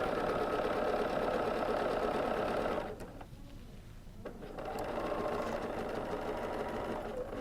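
A BERNINA sewing machine stitches free-motion quilting circles with rulers, a fast close mechanical rattle that pauses briefly midway and then resumes at a slightly lower level.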